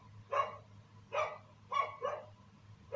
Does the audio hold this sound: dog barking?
yes